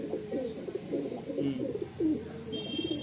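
A pair of Kalanka pigeons coo in repeated low, warbling phrases close by. The cooing runs continuously, with brief rises in loudness.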